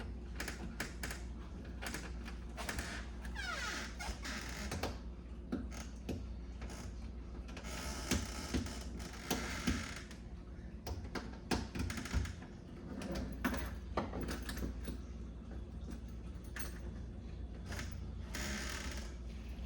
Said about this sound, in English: And then you'll use your quarter or other flat device to finish turning this in.